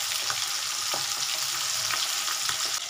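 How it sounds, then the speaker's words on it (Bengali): Tangra fish sizzle in oil in a pan over a gas flame turned up a little, a dense, even crackling hiss with scattered small pops, close and uninterrupted. "একটু গ্যাসের ফ্লেমটা বাড়িয়ে দিলাম, আস্তে আস্তে ভাজা।"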